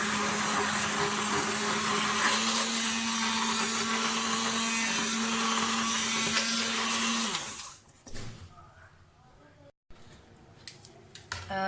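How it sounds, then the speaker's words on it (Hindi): A blender runs loud and steady for several seconds through a batter of meat, porridge grains and rice for hareesa, then cuts off, leaving quieter clattering and faint handling sounds. "ब्लेंडर से बहुत अच्छी तरह से ब्लेंड हो जाता है।"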